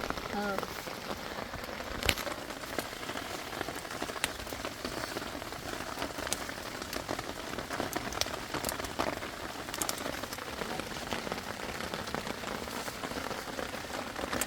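Rain falls on a water spinach farm field, a dense, even patter of drops spread across the whole scene with scattered sharper taps standing out, steady and moderately quiet throughout.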